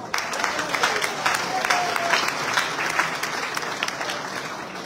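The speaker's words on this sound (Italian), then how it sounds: "Un applauso all'onorevole Alberto Bagnai." Sustained audience applause at a League party political rally in Castellalto, Teramo, a dense wash of clapping at steady loudness for the whole stretch, with faint crowd murmur underneath.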